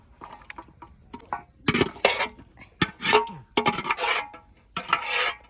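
Metal cooking pot of vegetable curry lifted off the stove, with several bursts of scraping, rubbing and clattering of the pot against the burner grate, close and fairly loud, separated by short pauses.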